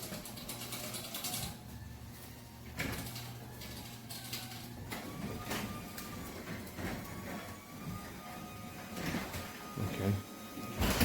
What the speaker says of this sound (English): So then I built an Alexa routine so that if the garage door is open, and it's open right now, so if I close the garage door